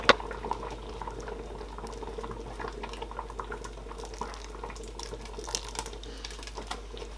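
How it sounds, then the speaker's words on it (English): A pot of Nigerian ogbono and okra soup bubbles steadily on the stove, with soft popping and gurgling close by and small sharp clicks scattered through, no voices. "It has been boiling for 10 minutes now and I stirred it in between."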